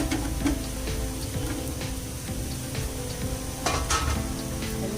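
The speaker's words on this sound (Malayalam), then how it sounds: "ഈ സമയത്ത് ഞാൻ അതിലേക്ക് കഴുകി ക്ലീൻ ചെയ്ത് കട്ട് ചെയ്ത് വെച്ചിട്ടുള്ള മഷ്റൂം ഇതിലേക്ക് ആഡ് ചെയ്ത് കൊടുക്കണം." Washed, cut mushrooms tumbling into a frying pan with onion for butter garlic mushroom, setting off a steady close sizzle and frying hiss with a few soft clatters of stirring.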